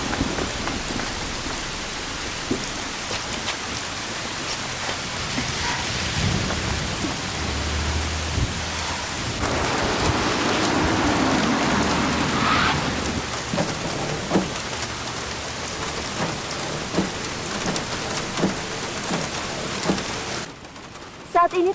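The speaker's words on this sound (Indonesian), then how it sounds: "Saat ini terjadi hujan di wilayah Seoul dan Provinsi Gyeonggi." Steady rain pours over the Seoul and Gyeonggi area, a dense, continuous hiss with scattered drops and a low rumble of thunder that swells midway, loud and close throughout.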